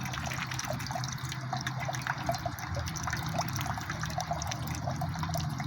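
Water trickling and splashing steadily from an outdoor drinking fountain along a riverwalk, a continuous close running stream with small drips, no talking.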